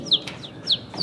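A person's voice imitates bird calls, giving three or four short rising chirps in quick succession, close and fairly loud.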